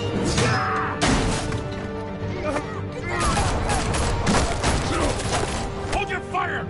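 Gunfire in the Batman: The Telltale Series video game: dense, continuous bursts of shots and impacts crackle at steady loudness throughout, with crashes and mechanical clatter mixed in and voices shouting over the chaos.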